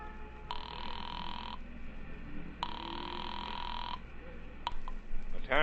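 A pay telephone rings on the other end of a line in an old-time radio detective drama after a nickel is dropped in and a number dialed. Two long, even ring bursts separated by a pause come through clearly, then a click as the call is picked up.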